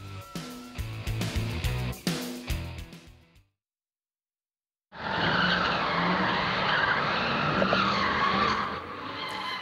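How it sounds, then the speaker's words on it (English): Cars drifting in circles at a night street sideshow on High Street in Oakland make a loud, sustained screech of skidding tires and revving engines. It follows a burst of music and a moment of silence. "Multiple cars drifting in circles before a crowd of hundreds. Some inside the cars, some just steps from the screeching tires"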